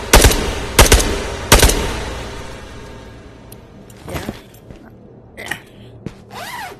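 Gunfire from a first-person shooter, Ghosts of Tabor: three loud, sharp shots spaced about a second apart open the passage, followed by fainter clicks, a thump and small gear handling sounds.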